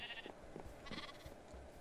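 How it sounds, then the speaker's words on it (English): Sheep in a Minecraft-style factions game bleat a few times in short rising calls, moderately loud and close, over faint background noise, with no talk. "Oh no, sheep, come back."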